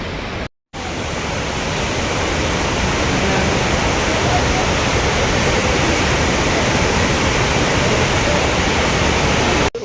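Devkund waterfall in Odisha roars in a loud, continuous broadband rush of falling water, close and steady, with a brief cut to silence near the start.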